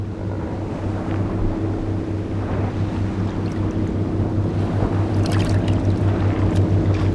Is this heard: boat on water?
yes